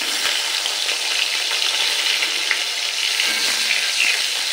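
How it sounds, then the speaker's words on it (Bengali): Potato pieces fry in hot oil with black cumin seeds and a dried red chilli, giving a steady close-up sizzle with occasional soft stirring scrapes and no voices. "আলুটাকে একটু ভাজা ভাজা করে নেব।"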